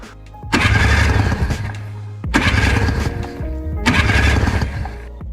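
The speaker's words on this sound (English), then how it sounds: "I'm gonna try to test for spark just by holding the spark plug against this nut and cranking it over" A Yamaha Phazer snowmobile engine, left sitting outside for years, is cranked over in three loud, rough bursts of a couple of seconds each, separated by short pauses, without catching.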